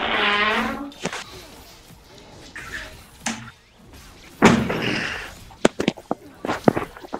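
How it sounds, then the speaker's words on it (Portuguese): A bedroom door being closed indoors, a scatter of creaks, thumps and a latch click over several seconds, fairly close, with a short burst of noise at the start. "Fechar a porta aqui do quarto."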